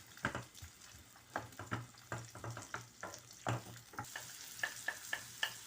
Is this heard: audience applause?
no